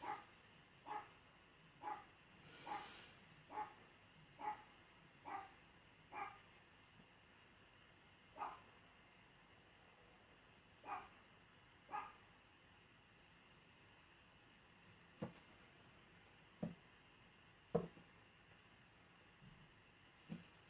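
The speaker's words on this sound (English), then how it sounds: "There goes my dogs." Dogs barking at a distance, a string of single barks spaced out irregularly over a quiet background.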